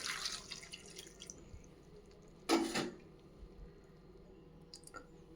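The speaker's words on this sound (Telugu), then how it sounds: "ఇప్పుడు 1 గ్లాస్ వాటర్ కూడా వేసుకోండి ఫ్రెండ్స్." A short splash of a glass of water poured into a pot of gongura dal, a brief burst of liquid sound in an otherwise quiet room.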